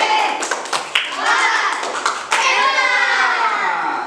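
Third-grade schoolchildren in an Indonesian classroom clap a rhythmic cheer for a group of classmates, with sharp sequences of claps mixed with children's voices and a teacher talking.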